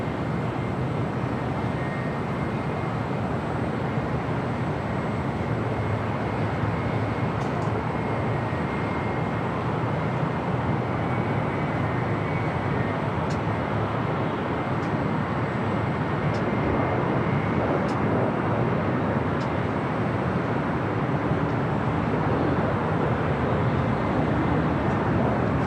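A JSX jet taking off down runway 25 left at LAX, a steady broad engine roar held at a constant level, loud and unbroken throughout.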